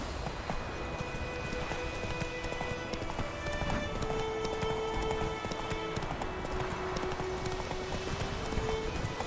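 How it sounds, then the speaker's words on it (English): Roach, Geralt's horse in The Witcher 3, gallops with rapid, continuous hoofbeats beneath game ambience and faint music tones, steady and moderately quiet throughout. "Come on, Roach. ঘোড়া চড়া কন্ট্রোলটা কেমন একটা বেশ"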